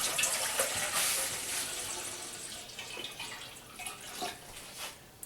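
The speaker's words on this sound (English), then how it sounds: "make sure you dump about 1/4 of the water out" Water splashing and pouring from a jug during mead making, a steady hissing rush that tapers off with a few trailing splashes, fairly faint and close, no talk.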